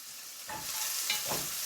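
Onions frying in a pan give a steady sizzling hiss, broken by two scraping bursts of stirring close by, with no talking.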